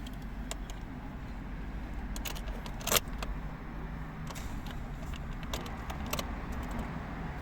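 Keys jangle with soft metallic clinks and rattles over a steady low hum of a nearby car, a 2009 Nissan Qashqai with a 1.5 dCi K9K diesel engine.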